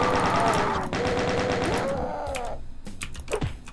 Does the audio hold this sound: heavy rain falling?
no